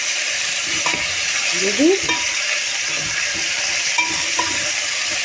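Chopped onion hits meat frying in a pan for an okra and meat tagine, giving a steady, bright sizzle with soft scraping and stirring beneath it, and a brief voice over the hiss.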